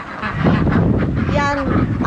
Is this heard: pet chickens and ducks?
yes